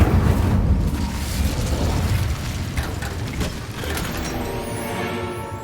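A fire spell cast in the video game Hogwarts Legacy: a sustained, loud burst of roaring flame and rumbling crackle that fills the whole stretch, fading slightly toward the end, with no voices.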